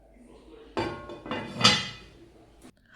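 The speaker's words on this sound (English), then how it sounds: "Now I add it to the pot and add some seasoning cubes to it, as well as water and some salt." Meat, seasoning cubes, water and salt go into a cooking pot for Port Harcourt native soup, giving a few clanks and clinks of metal and utensils with a splashy burst in the middle, close and brief.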